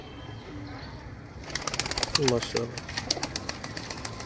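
Sialkoti high flyer pigeons cooing and flapping their wings close by, a soft burst of bird sound under a voice speaking briefly.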